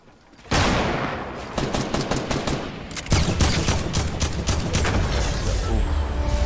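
Heavy assault rifle in the Fortnite video game firing loud, close bursts of rapid shots, one burst then a longer stream, with a voice talking faintly underneath.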